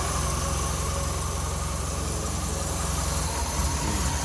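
A rebuilt MG/Triumph 1500 engine running at a steady idle on a test stand, a constant low rumble with a noisy, even hum throughout and no speech.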